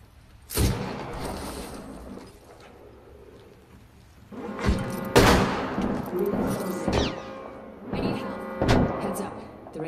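Gunfire in the battle-royale game Apex Legends: sharp bursts of shots and heavy impacts come in clusters, loudest in the second half, with a player's voice talking over the fighting.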